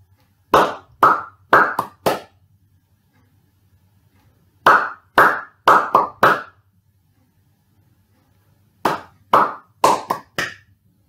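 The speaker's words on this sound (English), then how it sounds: "Write down which number rhythm I'm clapping." One person claps a rhythm with their hands in three separate bursts of four or five sharp, close claps, each burst followed by quiet pauses.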